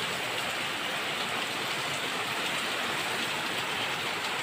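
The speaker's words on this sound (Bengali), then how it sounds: "কি জোরে বৃষ্টি হচ্ছে" Heavy rain pours steadily outside a home window, a dense, even rushing hiss that stays constant throughout with no talk.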